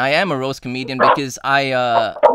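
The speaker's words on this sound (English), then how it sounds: "my dog's barking" A dog barks and yips in short bursts close by, overlapping a man's continuous speech in a live radio podcast studio.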